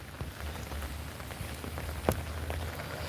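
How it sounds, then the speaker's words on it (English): Steady rain falls on a surface in a close, continuous wash of patter, with a single sharper drop or knock standing out briefly. "it's just been raining all afternoon"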